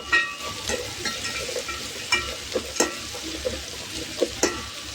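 Beans and vegetables being stirred in a sizzling pan while cooking Karnataka-style tomato bath, with a steady frying hiss and repeated scraping strokes of the spoon, close and alone.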